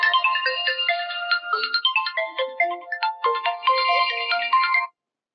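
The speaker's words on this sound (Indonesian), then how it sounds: "ada telepon masuk" A telephone ringtone for an incoming call plays a bright, busy electronic melody, loud and continuous for about five seconds before cutting off into silence.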